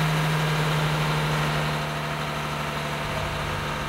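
A sand and salt spreader engine runs at a steady drone with the auger on setting 2, holding around 1,500 to 2,000 RPM. The hum is close, even and continuous, dipping slightly partway through.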